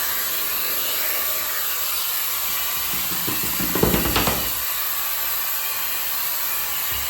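Hair dryer blowing steadily while a dog is dried after a bath at home, a constant loud hiss with a brief burst of clatter and movement partway through.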